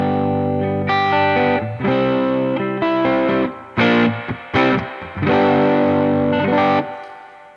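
A 1970 Guild S-100 electric guitar on its neck pickup plays loud, dark, burly chords with distortion, strummed in separate ringing bursts with short gaps between them.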